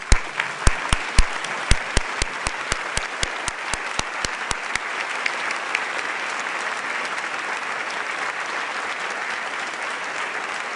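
Audience at a 2014 university convocation applauds new faculty and staff, starting with a few sharp, distinct claps that quickly swell into steady, dense clapping from a large crowd, sustained loud throughout with no talking.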